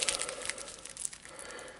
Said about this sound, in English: So we'll just give those a quick shuffle